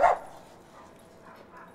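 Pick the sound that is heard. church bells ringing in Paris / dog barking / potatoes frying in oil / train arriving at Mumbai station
dog barking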